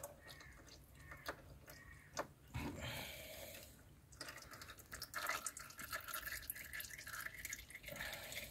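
Engine oil draining from a Peugeot 106 during an oil change, a thin continuous trickle and patter close by, with scattered clicks and handling noises and no voices.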